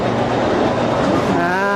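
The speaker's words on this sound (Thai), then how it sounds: "เราจะเดินทางด้วยรถไฟฟ้า BTS นะฮะ" A BTS Skytrain train in Bangkok rumbles along steadily with a broad mechanical roar and rising tonal whine near the end, with voices faintly mixed in.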